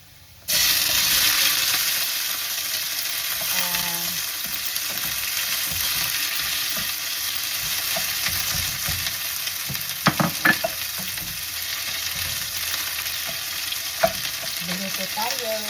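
Egg and bacon frying in a pan, a steady close sizzle with scraping stir sounds and a few sharper pops and clicks partway through.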